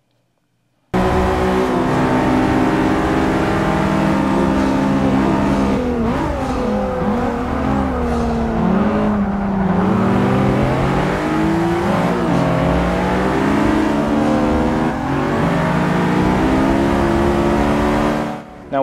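Nissan GT-R and Honda Civic Type R racing across a starting line, a loud sustained engine roar climbing and shifting pitch as they accelerate hard, heard close and continuous with no talk.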